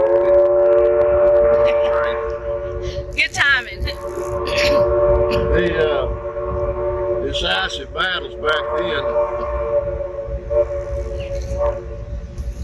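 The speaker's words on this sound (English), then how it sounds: "What you just heard is a train from the Tennessee Valley Railroad Museum." A train at the Tennessee Valley Railroad Museum sounds a long, steady horn or whistle tone that holds through most of the stretch, running under continuous talk.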